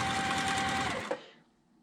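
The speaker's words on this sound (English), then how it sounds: "putting into the machine first to sew onto" A sewing machine stitches a quilt block seam in one continuous close whir for about a second, then stops with a small clunk and falls quiet.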